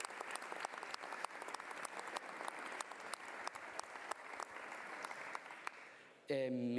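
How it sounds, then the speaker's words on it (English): A crowd at the FC Barcelona Women's Champions League celebration parade applauds steadily, a dense wash of clapping heard from some distance, ending abruptly as a voice starts over a loudspeaker. "she deserves a round of applause too"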